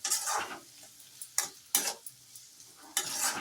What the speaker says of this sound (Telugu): పసుపు అంతా బాగా కలిసేలాగా కలిపెట్టుకోండి